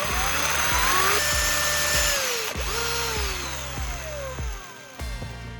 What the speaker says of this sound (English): I'll use a drill to make a small hole in the cap of the PVA glue bottle